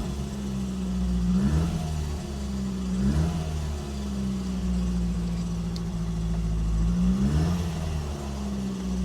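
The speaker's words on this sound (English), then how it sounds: "We'll just give it a little rev." A car engine revs several times during an emergency fan belt test, each rev rising and falling over a steady idle, close and alone.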